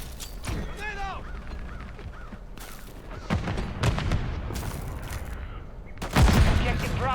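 Rapid bursts of gunfire and a heavy explosion crack through a Modern Warfare 3 multiplayer match, with shots scattered across the clip, a big blast near the end and in-game voices calling out.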